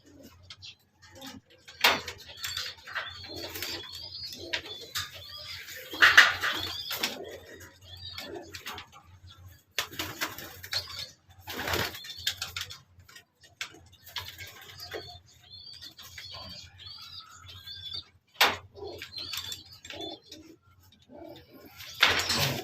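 Pet birds, likely pigeons or doves, coo and chirp intermittently at a moderate distance, with scattered soft calls and small ticking sounds under quiet room noise.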